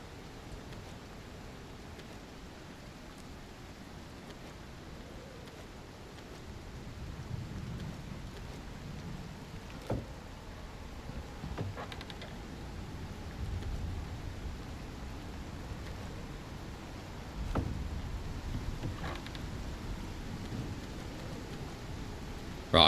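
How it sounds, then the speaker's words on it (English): A steady rainstorm hisses throughout in the Icarus video game, with low thunder rumbling and swelling in the background and a few sharp cracks breaking through. "once this storm's over, we need to make some more storage"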